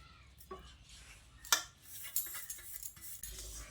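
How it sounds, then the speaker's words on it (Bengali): Ghee-fried semolina stirred in a pan for halwa, with quiet scraping and a few soft clinks of a utensil against metal, close and faint. "সুজিটা দিয়ে 1-2 মিনিট এইভাবে নাড়াচাড়া করে নিচ্ছি।"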